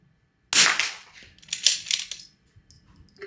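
A Bergara B14R rifle firing Eley match ammunition gives one sharp, fairly faint crack, followed by a few softer clicks and rattles as the action is worked.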